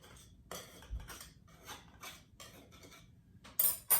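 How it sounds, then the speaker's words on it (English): A knife scraping and clinking around the edges of a metal Bundt pan holding a lemon blueberry cake, in several short scraping strokes with sharper metallic taps near the end, close and fairly quiet. "I'm just gonna take a knife around the edges, just kind of loosen it up a little bit."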